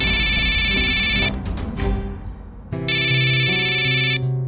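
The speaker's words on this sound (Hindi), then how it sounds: "रघु का फोन है।" A phone rings in a loud dramatic scene, with electronic ringtone bursts at the start and again later, layered over heavy music and a low drone.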